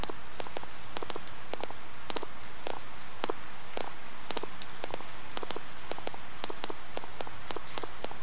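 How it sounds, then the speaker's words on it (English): Rain falls in the video game Persona 4, a steady hiss of rainfall with scattered louder drops tapping on surfaces, even and continuous, with no voices. "It's a rainy day, a fully rainy day."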